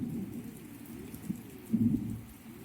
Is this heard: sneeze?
no